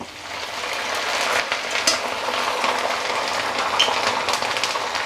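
Dried red chillies and curry leaves hit hot tempering oil for a red chilli and brinjal pickle, giving a loud, steady crackling sizzle that holds for several seconds with no talk over it.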